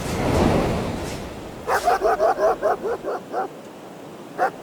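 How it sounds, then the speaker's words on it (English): A dog barks at a tree outdoors, giving a quick run of about eight sharp barks at middle distance and then one last bark after a pause, all following an earlier wash of rumbling noise. "the dog which was barking at a tree"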